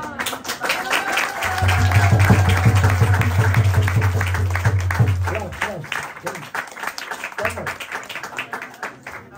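A small gathering claps at an informal birthday celebration, sustained clapping mixed with voices and a low hum early on, the applause thinning toward the end.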